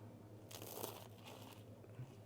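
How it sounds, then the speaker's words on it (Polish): A bite into crunchy toast topped with goat cheese, rocket, almonds and honey makes a short, faint crackling crunch lasting about a second, with quiet room hum around it and no talking. "Jak to chrupie."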